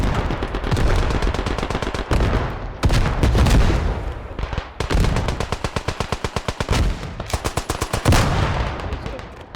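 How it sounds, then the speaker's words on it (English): Battlefield gunfire and explosions in the video game Beyond the Wire: loud, dense machine-gun bursts, rapid volleys of shots and heavy booms in close succession, with no pause throughout. "Explosions and gunfire feel visceral and jarring."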